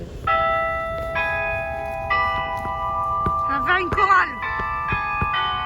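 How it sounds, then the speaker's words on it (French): A bell in Central Park, New York, rings out in several clear, sustained strikes that hang and overlap, while a person talks over the tolling in the middle. "Là, vous avez la cloche qui sonne."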